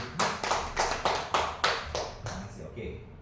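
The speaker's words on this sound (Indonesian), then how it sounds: "Tepuk tangan dong buat Bu Yanti." A small group claps hands in a classroom micro-teaching session, about eight distinct, evenly spaced claps in unison, fairly close and moderately loud, fading slightly toward the end.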